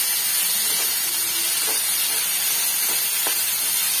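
Tomatoes fry in a pan for drumstick sambar, giving off a steady, even sizzle and hiss that runs unbroken throughout.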